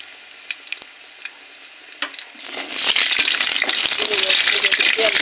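Food frying in hot oil breaks into a loud, steady sizzle after a few quiet seconds of faint clinks, with crackles and spatters running to the end.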